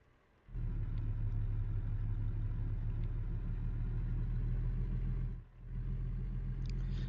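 A steady, loud video-game truck engine drone starts abruptly and holds evenly, dipping briefly near the end before resuming, with no voices.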